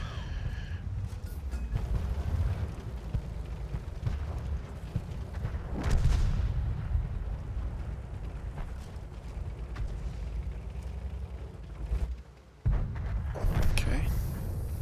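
Tank cannon fire in World of Tanks, heavy booming shots at irregular intervals over low rumbling battle noise, with someone talking throughout.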